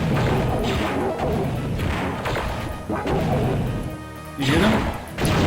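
Heavy cannon blasts from the droid IG-88 in a Star Wars shooter game, a run of loud crashing booms and thuds repeating in quick succession over a dense, roaring battle din, with no talk.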